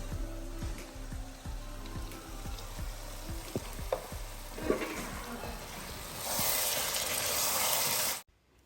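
Ground yogurt hits chicken frying in a pan, setting off a loud, steady sizzle that swells and hisses strongly in the last seconds, with clinks of a spoon stirring through the first half before cutting off abruptly.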